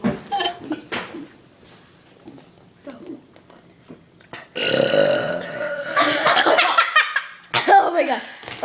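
Several loud, long burps rise and fall close to the mic, mixed with laughter and giggling, and people talk between them.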